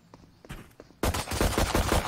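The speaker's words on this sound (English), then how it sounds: "Why was he shooting like that?" Gunfire in the video game Valorant: after a few soft thuds, a sudden burst of rapid shots breaks out and continues in a loud, close rattle.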